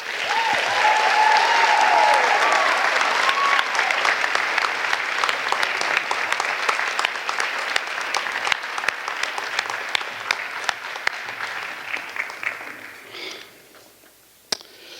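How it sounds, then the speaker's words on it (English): Sustained audience applause honoring seniors at a student achievement celebration, dense clapping that starts full and loud, then gradually thins and tapers off toward the end with a few scattered claps. "Let's just give one more round of applause to these amazing seniors."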